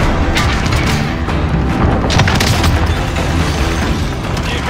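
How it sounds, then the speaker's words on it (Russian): Precision airstrike explosions in Call of Duty Warzone: a sustained, loud barrage of booming blasts with crashing bursts layered over one another for several seconds. "Точечный авиаудар. Будьте внимательны."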